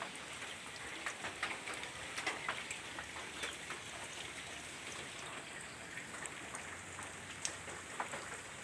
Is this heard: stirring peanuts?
no